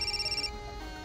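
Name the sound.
telephone ringing with an incoming call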